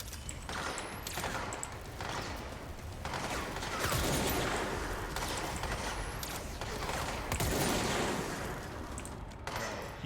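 Gunfire rattles in the video game Control, a dense, continuous fusillade of shots with mechanical clatter, loud and unbroken throughout, with no talk.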